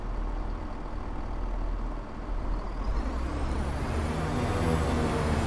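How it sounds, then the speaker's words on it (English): Train air brakes releasing in a Train Sim World 4 train simulator at Kirkcaldy station, Perth to Edinburgh route: a steady, loud hiss of escaping air that swells slightly partway through, over a low engine hum. "Just releasing the brakes straight into notch 4 of power"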